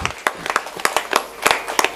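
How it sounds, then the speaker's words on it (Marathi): Audience members clap during a Marathi kirtan held for a death anniversary. The claps come as a loose, uneven patter of sharp individual hits, close and moderately loud, with no talk. "त्या नातेवाईकांच्या नावानं जोरदार टाळ्या वाजवा बरं एकदा"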